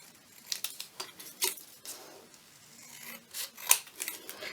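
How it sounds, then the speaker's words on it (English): Scissors trim a piece of craft card, giving soft, irregular snips and rubbing paper sounds with one sharper cut near the end. The sound is close and fairly quiet, with no talking. "I'm just going to trim that down a bit."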